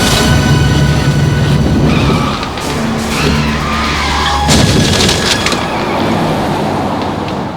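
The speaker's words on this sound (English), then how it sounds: "Car accident, just a normal everyday kind of fender bender." A car skids with loud, sustained tire screech in a minor fender-bender, the squeal dropping briefly before resurging with a harsh crash-like burst and continuing scraping noise, close and dominant.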